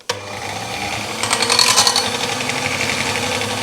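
An electric mixer whirs through cake batter with milk added, a loud, buzzing motor drone with a rattling, chattering beat that starts with a click and runs steadily, swelling briefly near the middle.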